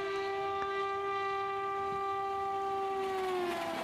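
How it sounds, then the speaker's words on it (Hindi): A long, steady two-tone horn from an aerodynamic Indian locomotive blares for several seconds, slightly distant, with faint rail rumble beneath and no talking. "ये हॉर्न बड़ा शानदार निकलता है जब वो ट्रेन के पास से गुजर जाते हैं ना"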